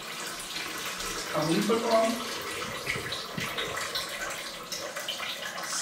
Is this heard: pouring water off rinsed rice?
yes